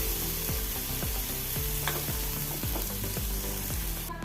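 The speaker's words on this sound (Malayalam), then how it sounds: "ഉപ്പും ചേർത്ത് നല്ലപോലെ ഒന്ന് ഇളക്കി കൊടുക്കാം" Chilli chutney sizzles steadily in a hot pan as salt is stirred in, with regular scraping strokes of the spoon repeating about twice a second over continuous frying noise.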